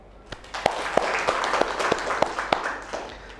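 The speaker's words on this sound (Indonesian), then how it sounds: "Kita beri aplaus dulu." University students in a classroom give a brief round of applause, with scattered, individually distinct claps at a modest level and no speech over them.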